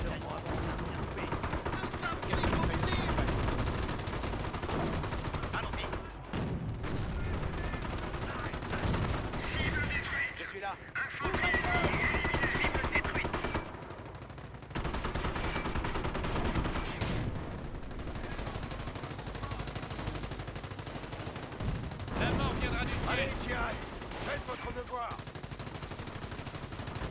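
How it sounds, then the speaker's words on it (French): Battle gunfire in the Company of Heroes war game during a night attack: continuous rattling machine-gun bursts and scattered shots with rumbling blasts, dense and sustained, under intermittent shouted voices. "On essuie des tirs!"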